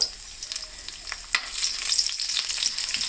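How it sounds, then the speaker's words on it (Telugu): Whole spices, dried red chillies, mustard seeds, chana dal, garlic and cumin sizzle and crackle in hot oil for a coriander-leaf pickle tempering, stirred with a ladle; steady close frying hiss with scattered pops and soft scraping throughout, no talk. "వేగేదాకా గరిటె తిప్పుకోవాలి."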